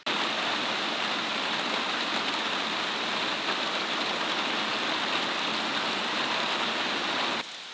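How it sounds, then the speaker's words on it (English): A shower runs in a steady, even hiss of falling water, loud and close, holding constant for about seven seconds before cutting off near the end, with no talk. "We're gonna just sit and enjoy this shower."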